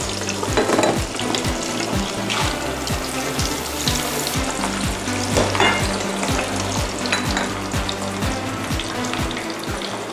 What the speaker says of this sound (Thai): เล็กจะทอดด้วยไฟค่อนข้างอ่อนนะคะไม่อยากให้กระเทียมและหอมแดงไหม้ซะก่อนนะคะ